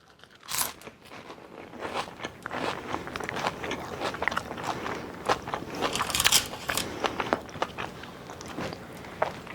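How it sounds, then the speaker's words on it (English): Crunchy vanilla collagen cookies bitten and chewed close up, with repeated sharp crackling crunches in an irregular rhythm and no talking. "They're definitely crunchy, as you can hear"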